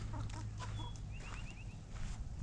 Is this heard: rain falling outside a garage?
no